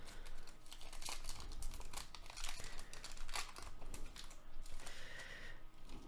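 A basketball trading card pack wrapper is ripped open by hand, giving a steady stream of close crinkling and tearing foil sounds with irregular sharp bursts and no talking.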